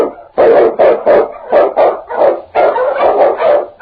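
Eskimo lead sled dog barking in a radio drama, a steady run of loud, close barks in quick repeated bursts across the whole stretch, with no talk over them.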